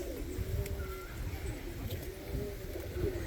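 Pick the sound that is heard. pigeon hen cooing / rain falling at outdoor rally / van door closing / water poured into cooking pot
pigeon hen cooing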